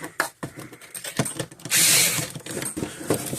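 A screw is backed out of an electric fence energizer with a power driver, heard as short mechanical whirs and clicks at close range with one longer, louder buzzing burst in the middle.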